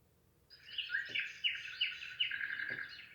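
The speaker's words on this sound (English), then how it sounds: "that's forest birds" A white noise machine plays a forest birds track: after a moment of quiet, a fast twittering bird song rises and continues in busy, repeated chirps at moderate volume with no talking.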